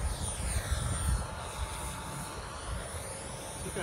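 A small radio-controlled helicopter's motor and rotor whine buzzes close by, drifting in pitch over a steady, gusty wind rumble.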